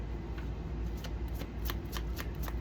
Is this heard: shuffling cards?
yes